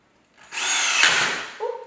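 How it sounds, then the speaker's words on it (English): A power drill, trigger squeezed by a child, whirs steadily as it drives into wood while building a wooden present ladder, a loud close burst lasting about a second, then a brief voice. "I let Ella help by holding the drill in place while she squeezes the trigger."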